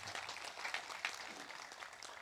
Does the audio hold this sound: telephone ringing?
no